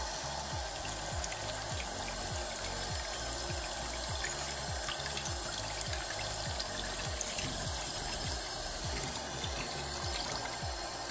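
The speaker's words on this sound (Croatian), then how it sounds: "Pustite vodu." Tap water runs steadily into a sink while an object is rinsed under it, making a continuous close rush and splash with a faint repeating pulsing underneath.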